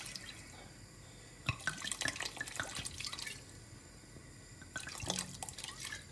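Malbec red wine pours into a pot of beef bourguignon stew, faint splashing and dripping that comes in a few short bursts over a quiet background.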